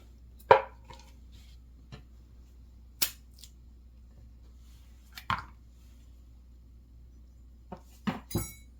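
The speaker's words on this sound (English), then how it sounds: "I like to just kind of pop it with my knife." A knife popping the pit out of an avocado in a quiet kitchen, heard as a few sharp, isolated clicks and taps spread out with silence between them.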